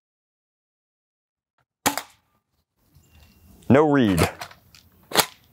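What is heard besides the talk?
Venturi dart pistol firing over a chronograph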